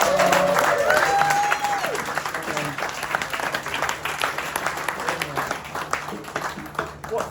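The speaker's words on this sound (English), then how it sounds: "Can we give a round of applause," Audience applause at a playback theatre show, loud and continuous across the whole stretch, with a voice speaking briefly over it at the start.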